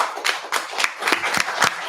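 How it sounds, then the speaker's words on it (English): An audience at a township committee meeting claps for veterans, a short burst of brisk, uneven hand claps from a small crowd, close and fairly loud. "Everybody here, we should applaud our vets"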